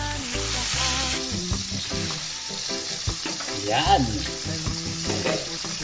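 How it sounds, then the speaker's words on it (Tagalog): Fish frying in a pan for a Filipino meal alongside munggo, a steady loud sizzle and crackle with stirring and scraping throughout, and a brief spoken word near the start. "Magpiprito tayo ng isda."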